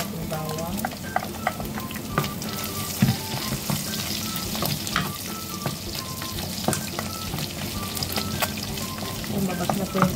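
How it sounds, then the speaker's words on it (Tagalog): Garlic sautéing in a pan for a pork, eggplant and string bean stir fry, with a constant close sizzle punctuated by frequent clinks and scrapes of stirring, no talk. "Igisa na po natin ang ating bawang."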